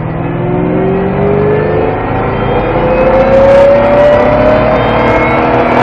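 A Ford Mustang Shelby GT500 engine revs hard on a race circuit and climbs in pitch as it accelerates, loud and continuous throughout, with a steady rising whine.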